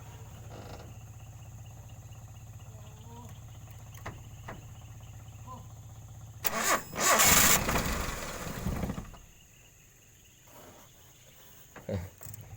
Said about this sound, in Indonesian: Sekarang akan saya coba lagi, nyalakan lagi mesinnya